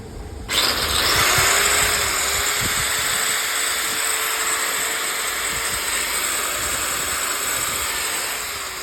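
A repaired handheld electric cutter machine, fixed after a sparking fault, whirs up abruptly to a loud high-pitched motor whine that holds steady for several seconds, then eases slightly toward the end, with no talk.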